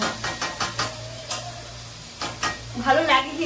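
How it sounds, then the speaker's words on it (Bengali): Pumpkin fries in oil with nigella seeds and green chilli while being stirred, a close sizzle broken by scraping stirs and a steady low hum, with brief voice-like sounds near the end. "কিছু দেবো না, এটা ভাজা ভাজা হতে থাকে।"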